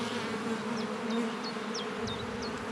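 Honeybees buzz steadily close by while a hive is opened for the first inspection of the year, a continuous drone with a few sharper passing whines from individual bees, no voices.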